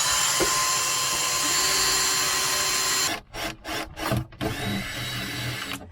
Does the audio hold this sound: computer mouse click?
no